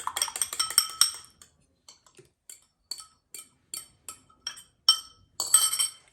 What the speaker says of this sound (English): I'm gonna stir in 2 beaten eggs